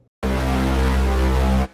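A second synth bass patch built in Serum, one sustained deep, buzzy note with a rich stack of harmonics, starting abruptly after a short silence and holding loud and steady before cutting off.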